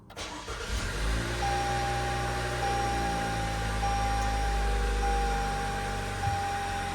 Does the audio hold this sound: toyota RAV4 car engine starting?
yes